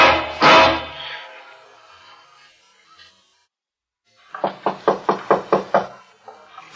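In a radio drama set in a Vienna hotel room, a single thud is followed after a pause by a quick run of about eight close, sharp knocks on a door, evenly spaced and alone against silence.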